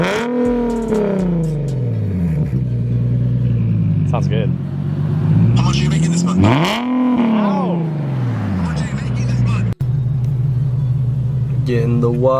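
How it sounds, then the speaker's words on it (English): A car fitted with a new aftermarket exhaust rumbles and revs close by, its deep engine note rising and falling in loud swells with a brief cut near the end, while people talk over it. "got the new exhaust for the new car"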